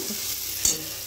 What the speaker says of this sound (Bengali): একটু রসুন ফোড়ন আর কালো জিরে কাঁচা লঙ্কা ফোড়ন দিয়ে